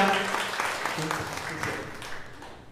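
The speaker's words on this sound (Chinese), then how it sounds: "我想我们将掌声归荣耀给上帝" Church congregation applauding during a Sunday service, a short burst of clapping mixed with a voice, fading out within a few seconds.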